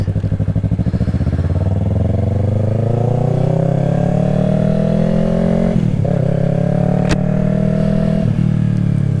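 Yamaha R3 motorcycle engine running steadily while riding, a loud close drone that climbs in pitch as the bike accelerates, dips briefly around a gear change, then holds a sustained higher tone.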